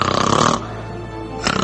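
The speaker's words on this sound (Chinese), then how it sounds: "你看这呼噜声越来越大" Loud snoring with harsh, rattling breaths from someone who snores heavily, especially after drinking, and has breathing pauses during sleep. A long raspy inhale is followed by a quieter stretch, then another rough burst, close and unaccompanied by speech.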